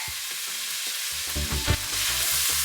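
Garlic sizzles steadily in hot coconut oil in a pan while Jamaican cabbage is being made, giving a continuous close frying hiss with a few soft clinks and stirring knocks and no talking.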